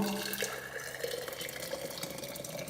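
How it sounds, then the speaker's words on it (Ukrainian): Boiling water pours from a kettle onto salt, a close, continuous splashing gurgle of liquid filling a container with small bubbling flickers throughout. "Чайник закипів, беремо сіль, висипаємо і заливаємо"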